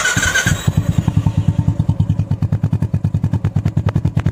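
Royal Enfield Bullet motorcycle with a repaired silencer idling close by, a steady, even thumping exhaust beat with regular loud pulses, heard alone.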